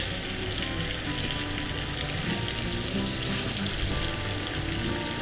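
Butter melting in a frying pan while making gravy for pork chops, giving a steady close sizzle and crackle that fills the whole stretch, with no voices.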